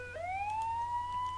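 A police car siren wails in the Japanese video game Machi, coming from a parked sedan with its siren sounding. A single clear, loud tone rises and sustains over a low engine hum.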